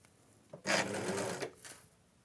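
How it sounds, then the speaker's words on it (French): A sewing machine stitches around the edge of fabric in one short close burst of fast mechanical whirring, lasting under a second, with quiet pauses on either side. "je vais coudre maintenant le pourtour"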